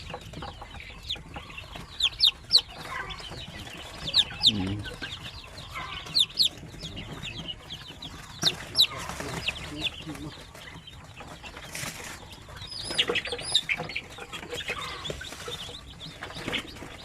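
Chicks in a brooder peeping in quick, high bursts, with clucking fowl and farm sounds around them and a voice speaking softly at times.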